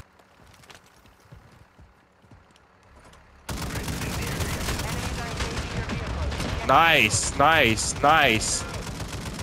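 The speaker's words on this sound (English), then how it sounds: "Keep shooting." Call of Duty Warzone gunfire, a burst of rapid automatic shots that starts abruptly and runs steady and loud, with players talking briefly over it.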